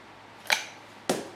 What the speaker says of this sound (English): now I'm going to use a pair of cable cutters.